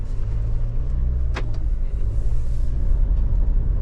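A 2024 GWM Cannon XSR ute drives off-road in 4H with traction control off, its engine a steady low rumble heard from inside the cab, with a short rattling knock partway through.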